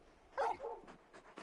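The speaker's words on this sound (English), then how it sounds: "You're just a big puppy, aren't you? A very big puppy." A big dog in Final Fantasy XVI gives a short, close bark followed by softer whimpering yips, heard alone against a quiet background.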